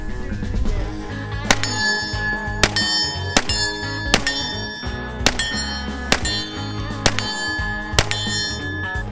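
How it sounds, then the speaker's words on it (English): A small bell is struck repeatedly at an outdoor Fourth of July gathering, ringing out sharply about once a second over a steady band of loud music. "I like your bell."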